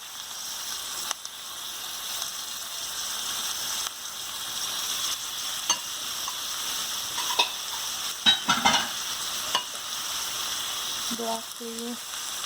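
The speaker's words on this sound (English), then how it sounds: "looks like our oil is heated up, and I'll start with the onions" Onions and spinach frying in hot oil for a breakfast burrito, a steady soft sizzle with occasional stirring and clatter, a voice speaking briefly near the end.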